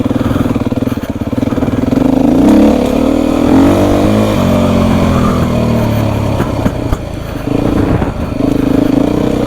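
A Beta 350 dirt bike engine drones loud and close while being ridden, its pitch rising and falling with throttle changes over a continuous rough mechanical rumble.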